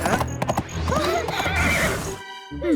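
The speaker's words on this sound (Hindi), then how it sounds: "साशा टहल रही थी जब वे भयानक गति से दौड़ती हुई घोड़ा गाड़ी से टकरा गई।" A horse whinnies loudly amid rapid clip-clop of hooves as a speeding horse-drawn carriage races past in a cartoon scene, the neigh rising and falling before a brief drop and renewed hoofbeats.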